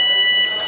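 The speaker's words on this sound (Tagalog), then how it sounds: "Umalingaw-ngaw naman sa buong batasang pambansa ang malakas na tunog ng alarm dahil sa lindol" A building alarm sounds inside the Batasang Pambansa legislative complex during an earthquake, a steady high electronic tone held continuously, loud and close throughout the short moment.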